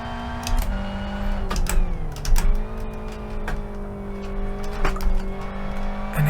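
A race car engine in a sim racing game holds a steady, loud drone through a lap, with its pitch dropping and climbing through gear changes and brief sharp ticks between them, and no talking.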